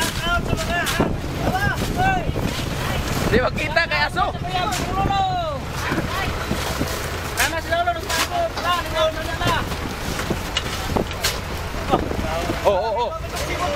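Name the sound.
wind at sea on a fishing boat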